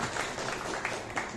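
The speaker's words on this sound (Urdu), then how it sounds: "تو لیاقت صاحب کے لیے بھی تالیاں ہو گئی" Audience applause for Liaquat Sahib at the Pak Marketing annual meeting in 2022: a brief, steady wash of clapping from a crowd, fairly distant and subdued, with no speech over it.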